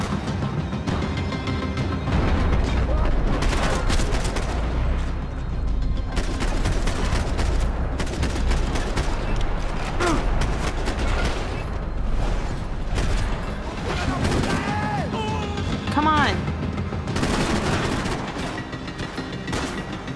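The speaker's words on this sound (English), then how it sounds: "how many times do I have to shoot you before you're dead?" Gunfire in Max Payne 3, dense bursts of shots and booming impacts crowding together for the whole stretch, loud and chaotic with brief mechanical clatter and occasional voices mixed in.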